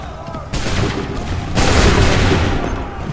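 A volley of musket gunfire from soldiers in Assassin's Creed 3 crackles out in two dense, overlapping waves, the second louder and fuller. The shots are close and booming, with no gaps between them.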